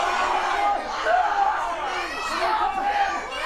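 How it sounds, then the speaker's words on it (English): An arena crowd at a wrestling event cheers and shouts for the wrestler Brody, a dense mass of voices with whoops rising and falling throughout. "Don't cheer Brody on."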